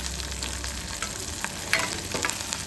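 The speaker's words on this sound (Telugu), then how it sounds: "తాలింపు బాగా వేగిందండి" Mustard seeds, cumin, dried red chillies and curry leaves sizzle steadily in hot oil for a tempering, with sharp crackles and pops rising over the continuous frying hiss, close and clear with no talking.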